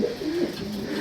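Racing pigeons coo softly in a loft, a low rolling burble that swells and dips over about a second, close by with a faint background hiss.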